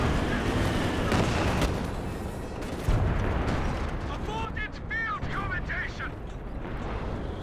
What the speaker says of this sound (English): Counter battery coming down out the back there